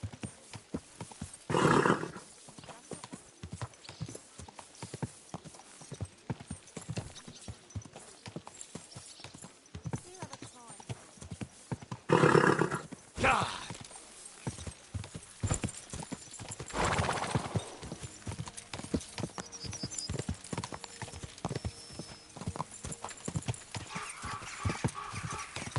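Horse hooves clip-clop steadily along a road in a video game, the rhythmic clopping carrying throughout, with a few louder bursts and occasional whinnying over a busy background.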